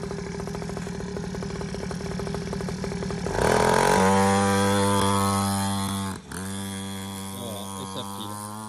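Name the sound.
49cc pocket bike engine running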